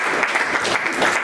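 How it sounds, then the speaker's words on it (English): An audience claps through a short stretch in a lecture hall, a steady dense patter of many hands at moderate volume with no voices over it. "go ahead, clap"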